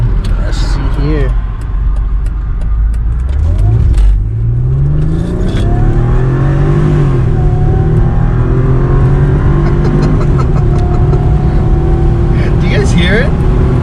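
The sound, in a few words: Mercedes AMG engine revving with custom dual cold air intake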